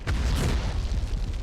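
A single deep, rumbling bazooka explosion in the 1999 video game Medal of Honor, a loud low boom that swells quickly and sustains for over a second before slowly fading.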